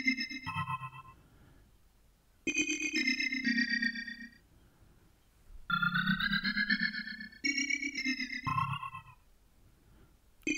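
Fairground organ-style synth patch with a chorus effect in the Caustic app on iPad, playing short bright chord phrases separated by brief silences, moderately quiet and alone with no talking.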